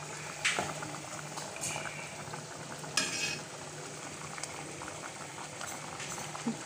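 A pot of home-cooked food boils on the stove in a steady bubbling simmer. Occasional spoon clinks and stirring knocks sound close by, and no one speaks.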